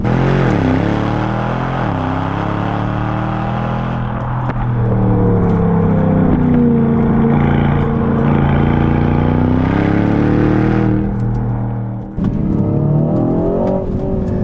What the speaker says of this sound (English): I love the crackles and pops are great